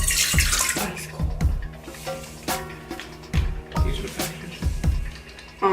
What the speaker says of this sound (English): So we start with half a cup of ice cold water.